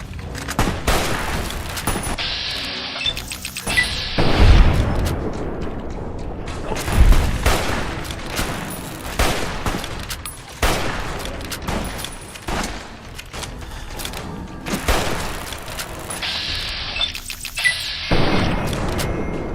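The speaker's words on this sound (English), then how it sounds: "Hunting rifle" A hunting rifle fires in Fallout New Vegas during a large battle at Hoover Dam. Loud, sharp shots repeat over a constant din of distant gunfire and explosions, and nobody talks.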